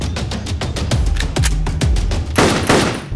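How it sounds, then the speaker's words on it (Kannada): Rapid bursts of gunfire from a Kannada film trailer crack out in loud, closely spaced volleys. The shots run like machine-gun fire and are mixed with heavy low booms. "ರೀ ಶ್ರೀಧರ್ ಸರ್, ಗನ್ ಲೋಡ್ ಮಾಡ್ರಿ."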